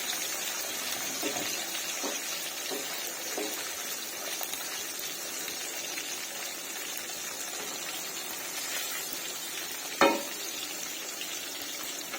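Fresh fish fries lightly in a pan with a soft, steady sizzle heard up close. A single sharp utensil knock stands out near the end.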